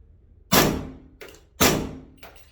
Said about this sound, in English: So now I have a nice quiet gun shooting subsonics.